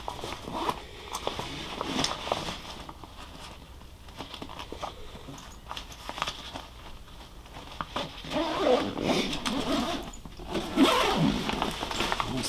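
A zipper on an Eagle Creek Tandem Warrior bag is pulled open in several rasping bursts, mixed with scraping and handling of fabric and clips, close and moderately loud.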